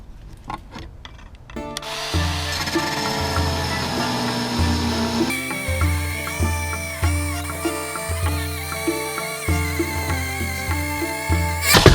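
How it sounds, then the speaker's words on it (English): A bandsaw cuts through hard stainless steel, giving a steady grinding whine with ringing tonal squeal and repeated heavier pulses as the blade bites, loud and close with no talk. "I still got to cut this one, and then I'm going to polish it a little bit"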